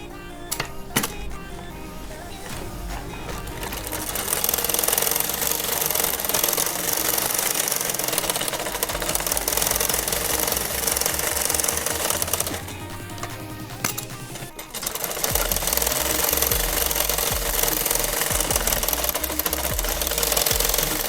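A sewing machine runs in long continuous bursts stitching a straight seam on cloth for a deity's dhoti and patka, a dense steady mechanical whir that pauses briefly midway then resumes, close and loud.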